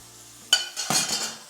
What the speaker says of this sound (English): put directly to fry with my carrots, onion